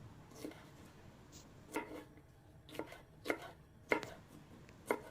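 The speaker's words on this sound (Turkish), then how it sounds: "Bir tahtanın üzerinde ince ince doğrayalım" Sharp knife chops through jalapeno peppers hit a cutting board, spaced irregularly about once a second, close and fairly quiet, with no talking.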